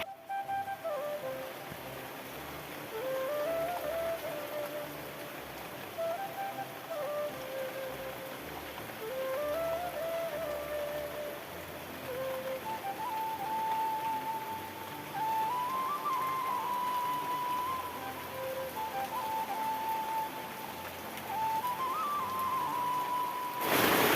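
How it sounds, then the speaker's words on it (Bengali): Heavy rain pours down in a steady, dense hiss that lasts the whole stretch, with faint thin whistling tones drifting over it. "বন্ধুরা দেখো এদিকে নেমে গিয়েছে প্রচণ্ড জোরে জোরে বৃষ্টি"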